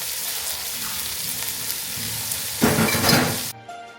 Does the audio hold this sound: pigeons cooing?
no